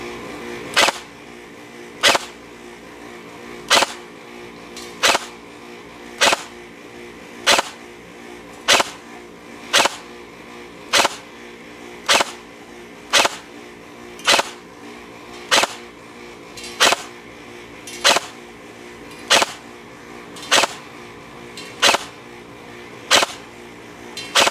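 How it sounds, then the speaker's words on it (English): Arcturus AK12 ETU airsoft rifle firing BBs at a distant target outdoors, single sharp snapping shots at an even pace of roughly one every second or so, about twenty in a row over faint background noise. "let's just see what the Arcturus AK12 ETU can do"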